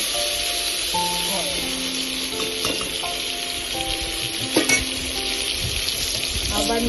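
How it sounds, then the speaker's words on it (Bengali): Pointed gourd pieces frying in oil, a dense continuous hiss and sizzle up close with occasional stirring clatter and a brief louder scrape partway through, no speech. "বাকি পটলগুলো আবার দিয়ে ঠিক একই ভাবে এগুলোকে ভেজে রাখতে হবে"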